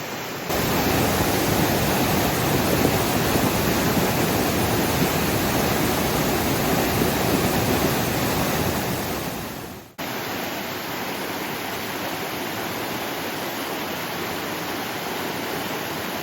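A creek in Appalachia rushes after recent flooding, giving a loud, dense, continuous roar of water. There is a sudden dip and a slightly quieter stretch partway through, and no voices.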